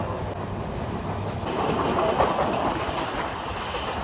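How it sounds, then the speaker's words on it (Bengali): The Kolkata to Dhaka train rolls into Jessore station with a steady, loud rumble of wheels and carriages and a faint clickety-clack throughout, heard from inside the coach. "এখন আমাদের ট্রেন এন্ট্রি করছে যশোর স্টেশনে"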